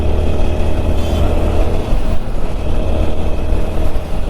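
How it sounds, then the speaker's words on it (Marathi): Evening road traffic near Miraj and Sangli passes a motorcyclist on the road, a loud continuous engine and vehicle rumble with steady low drone throughout. "संध्याकाळचं ट्रॅफिक बघा, एवढं ट्रॅफिक व्हायला"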